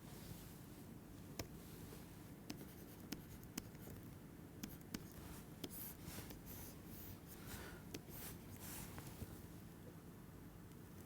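A lecturer writes on a board during a class, tapping out a string of faint, sharp strokes and clicks at uneven intervals over a quiet room hiss.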